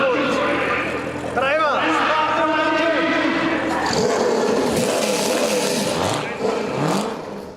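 NASCAR Euro Series race car engines roar and rev at Autodrom Most in the Czech Republic, a dense, loud, rising and falling engine din heard under a commentator's continuous talk.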